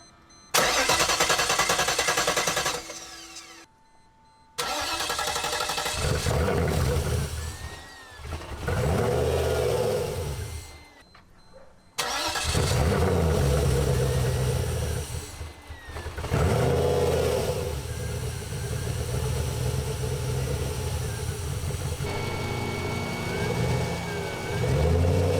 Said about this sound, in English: Let's try to start it.